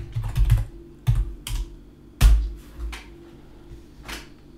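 Someone types on a computer keyboard in short, uneven bursts of clicking keystrokes, with quiet gaps between bursts and one louder key strike near the middle.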